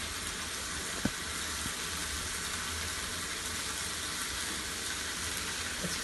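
Hand-minced keema fries with onions in a pan, giving a dense, steady sizzle close by, with a single sharp knock about a second in and faint stirring, no one speaking.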